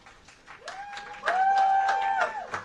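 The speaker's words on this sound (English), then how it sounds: "No cheering during speaking." An audience at an Ulster County legislative session claps in scattered bursts while one voice lets out a sustained whooping cheer, rising then fading.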